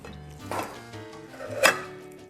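A knife cuts through thick grilled carne asada on a board, giving a few soft chops and one sharper knock, with faint musical tones beneath.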